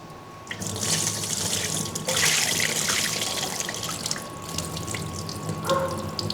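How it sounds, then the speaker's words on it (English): White rice is rinsed under a running kitchen tap, with a steady close rush of water into the bowl and sink, sloshing and splashing as the grains are swirled. "I'm going to get this very, very starchy white liquid. And I'm just going to rinse this off."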